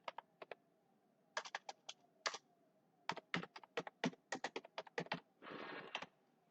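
Fingers type on a computer keyboard while entering a new line of text, producing fairly quiet bursts of crisp key clicks in uneven runs with short pauses. No one speaks.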